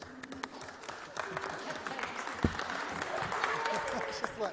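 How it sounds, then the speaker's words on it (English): People at a city public hearing clap together in a scattered round of applause, moderately faint in the room, with voices talking underneath. "Why are y'all clapping?"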